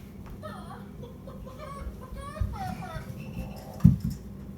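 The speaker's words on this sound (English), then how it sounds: "What is that frog clucking?" A frog character in a children's math lesson makes a clucking call, a short burst of hen-like clucks heard amid children's voices and talk.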